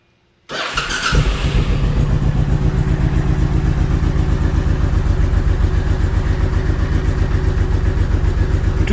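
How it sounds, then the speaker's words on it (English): A Honda VTX 1800 motorcycle engine cranks and catches, then settles into a loud, steady, rapid idle with a constant pulsing rhythm, close by. "crank the motorcycle up, run it for a few minutes"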